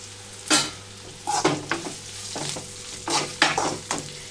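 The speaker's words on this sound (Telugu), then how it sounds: "ఇప్పుడు ఇక్కడ నేను ఆల్రెడీ వేయించి పెట్టుకున్న బెండకాయ ముక్కల్ని వేసేసుకుంటున్నాను" Pre-fried okra pieces tipped into a pan and stirred with turmeric, a few separate bursts of sizzling and scraping stirs over a low steady background hum.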